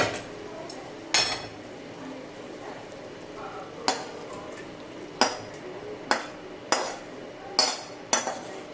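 Cooked chicken keema being scraped out of a pan after the gas is turned off, sharp metallic spoon scrapes and clinks at irregular intervals over a quiet background.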